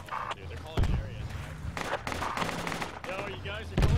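In the Project Reality military game, mortar rounds and gunfire crack and thud in scattered sharp bursts, some close and loud, mixed with players talking over voice chat.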